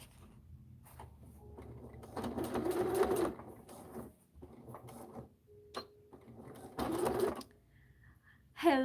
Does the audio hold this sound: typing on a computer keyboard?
no